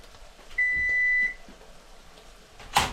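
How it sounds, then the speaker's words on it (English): A single sustained electronic beep from a kitchen timer, clear and fairly close, followed by a quiet room and a sharp clatter at the end. "And that's our timer."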